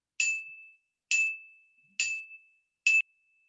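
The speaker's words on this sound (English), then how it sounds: "if I want to play a high note, I would have to play at one end of my glockenspiel" Four separate high notes are struck on a glockenspiel, each a bright metallic ding that rings and fades over about half a second, played alone in a quiet room.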